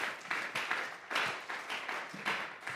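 A church congregation applauds in waves of scattered clapping. The bursts are soft and distant, with a short swell about every half second.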